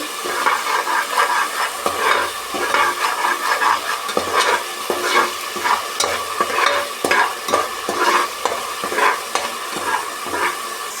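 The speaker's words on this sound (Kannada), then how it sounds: "ಹಸಿ ವಾಸನೆ ಹೋಗುವ ತನಕ ಚೆನ್ನಾಗಿ ಇದನ್ನು ಫ್ರೈ ಮಾಡಬೇಕು" Masala paste for mutton biryani frying in a pan and stirred steadily: a constant close sizzle with rhythmic spoon scrapes and light metallic taps repeating throughout.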